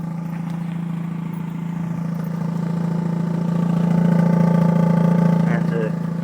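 A 2004 Mazda RX-8 rotary engine idles steadily with a deep continuous hum that swells slightly in the middle, under a voice speaking nearby.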